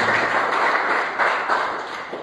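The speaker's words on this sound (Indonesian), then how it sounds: "Beri tepuk tangan terbaik ya Tuhan Yesus Kristus" A church congregation applauds at a Christmas sermon, dense, steady clapping from many hands throughout, loud and close, with no talk over it.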